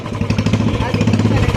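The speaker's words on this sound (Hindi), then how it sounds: "बिना सिलेंसर की आवाज़ है।" Royal Enfield Bullet motorcycle idling with its silencer removed, a loud, close, open-exhaust thump with a rapid uneven beat throughout, with voices over it.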